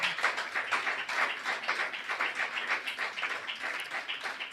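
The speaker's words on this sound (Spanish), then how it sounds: "¿Qué tal si le regalas un fuerte aplauso a nuestro Creador?" Church congregation applauding during a worship service, a steady continuous wash of many hands clapping at moderate distance, with no voices over it.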